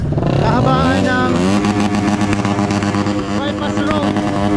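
Motorcycles rev hard along the Lipa bypass road during nighttime mini drag races, engines wailing and climbing in pitch with rapid, uneven throttle bursts, loud and near, with people talking underneath.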